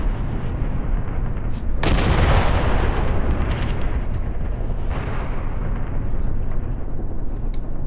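Artillery adjustment fire in the WWII tactics game Graviteam Tactics Mius Front: a continuous rumble of distant shelling broken by two heavy booming impacts, the first near two seconds and the second near five.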